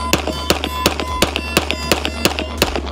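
Rapid 9mm shots from a TTI Combat Canik pistol, about a dozen loud, sharp cracks fired in quick, fairly even succession over steady background noise, no voices.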